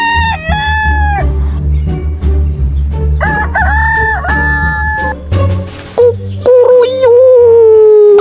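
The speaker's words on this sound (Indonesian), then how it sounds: "ternyata ini ada si jagur atau ayam jago" A toy rooster gives loud, close cock-a-doodle-doo crows, several drawn-out calls in a row with clucks between, mixed with background music.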